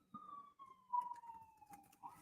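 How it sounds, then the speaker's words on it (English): An ambulance siren passes outside, a faint, slowly falling wail that holds for the whole clip with soft background knocks beneath it. "You hear the sirens?"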